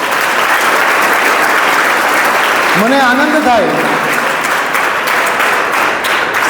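An audience at a school annual function breaks into sustained, loud applause that fills the hall throughout, while someone speaks briefly over the clapping.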